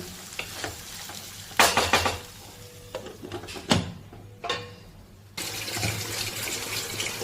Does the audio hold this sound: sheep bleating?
no